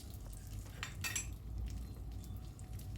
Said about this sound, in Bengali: দুধটা মাঝে মাঝে আমি নাড়িয়ে নিচ্ছি